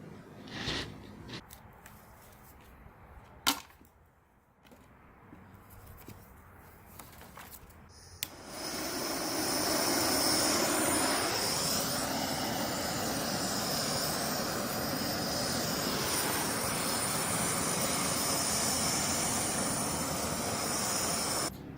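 A Harbor Freight 225 welder torch flame heating steel, starting with scattered knocks and handling noise, then a loud, steady roaring hiss takes over and holds unbroken to the end.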